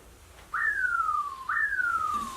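Two clear falling whistles, each a sharp rising onset sliding downward over about a second, repeated with a short gap; loud and close with no talking.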